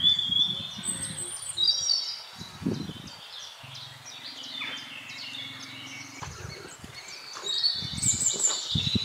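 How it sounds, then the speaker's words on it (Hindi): Several birds chirp and call outdoors in a graveyard, including repeated Asian koel whistles, with a low engine-like rumble passing underneath midway. "अगर आप मेरे बैकग्राउंड पे आवाज़ सुन सके तो कोयल की,"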